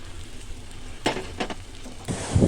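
Ground spice paste with ginger-garlic paste, salt, turmeric and chili powder sizzling in a pan for an aloo bhindi curry, a steady fry broken by a few sharp scrapes and stirs of the spoon, close and fairly loud.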